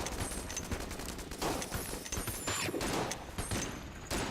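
Dueling pistol gunfire rings out in the video game Enter the Gungeon, repeated sharp shots and impacts over a busy, dense mix of game effects.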